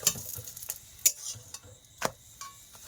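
Paratha frying in a pan as it puffs up, soft sizzling broken by several sharp scraping and stirring ticks of a utensil against the pan.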